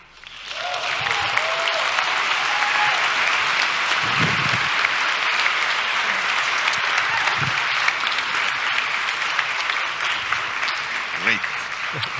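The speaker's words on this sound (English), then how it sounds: "This applause says that we have to repeat now." A lecture audience gives a long, dense round of applause after a talk by a Wall Street veteran. The clapping swells quickly and holds evenly for more than ten seconds, loud and close throughout.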